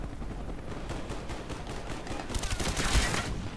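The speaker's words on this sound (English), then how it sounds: "my entire squad is outside and the freaking 10 helicopters just shooting at me" Rapid helicopter gunfire from Call of Duty: Black Ops keeps up a dense, continuous rattle of shots, growing louder and harsher toward the end with a heavy burst near the close.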